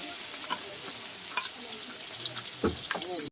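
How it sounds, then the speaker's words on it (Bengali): Fish frying in oil sizzles at low level with occasional sharper spits and a couple of utensil taps, close and continuous with no clear talking. "তো অলরেডি অনেকটা মাছ ভাজা হয়ে গেছে"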